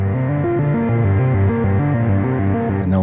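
A modular synth sequence voice passing through the Cascades module alone, a steady stepping pattern of pitched tones in a repeating rhythm, close and full, with a brief noisy burst at the very end.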